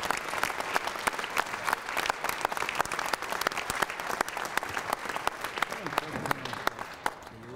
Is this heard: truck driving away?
no